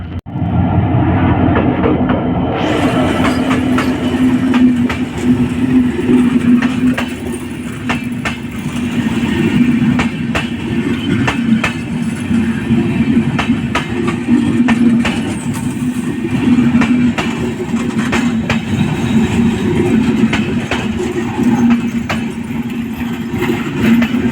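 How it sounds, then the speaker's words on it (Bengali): Steady, loud rumble of the Panchagarh Express passenger train idling at a railway crossing nearby, continuous low engine drone with scattered clicks and clanks, no talking. "এখন এই ট্রেনটি এখানে ক্রসিংয়ে পড়েছে"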